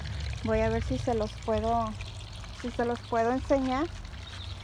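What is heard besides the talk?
water falling into a fish pond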